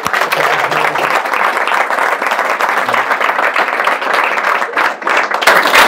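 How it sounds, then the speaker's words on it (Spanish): Audience at a talk at the Forestal giving applause for Mauricio Redolés, a full, continuous clapping from a crowd that holds steady for several seconds and fades slightly near the end. "Un aplauso para Mauricio."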